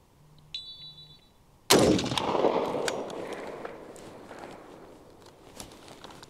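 A single loud Springfield Armory M1A rifle shot cracks out nearby after a few faint beeps, followed by a long reverberating echo that slowly fades across an outdoor range.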